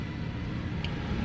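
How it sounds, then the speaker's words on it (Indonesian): A 2014 Honda Mobilio 1.5 E Prestige automatic, with 37,000 km on it, gives a steady, close, low engine rumble as it is started with the key. "ini kita masukin kunci, kita coba nyalain"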